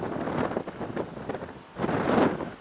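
Gusty wind buffets an outdoor camera microphone at the site of the old Farmers Oval ballpark in Ridgewood, Queens, a steady rumbling roar that swells louder near the end.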